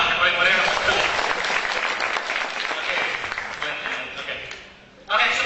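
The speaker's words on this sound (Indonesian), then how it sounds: "Tepuk tangan lah yang paling meriah." A seminar audience applauds with dense, enthusiastic clapping that holds for several seconds, then dies away briefly before a new burst.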